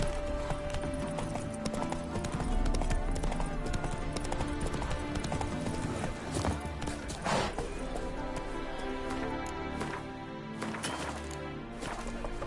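Horse hooves clip-clop in a brisk, steady rhythm as Geralt rides in The Witcher, close and prominent over a rich music and ambience bed, with occasional thuds and jingling tack.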